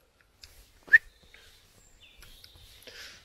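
A person whistles outdoors on a woodland path, a short sharp high note followed by fainter wavering whistled tones, fairly quiet against a still background.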